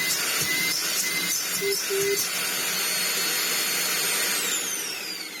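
A dusty Dyson UP22 upright vacuum cleaner runs with a loud, steady whooshing roar and a high whine, close by, with a few brief clicks and tonal blips early on before the motor note settles and fades slightly.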